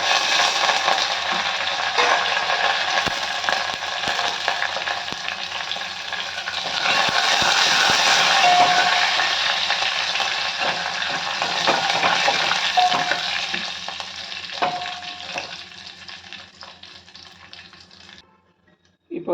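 Curry leaves crackle and sizzle in hot oil in a home kitchen pan, a steady broad frying hiss with occasional stirring scrapes, loud and close, fading out near the end with no talk.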